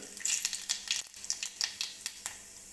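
Mustard seeds crackle and pop in hot oil on a gas stove, with a steady sizzle and a run of sharp, irregular snaps, close and clear, without talk.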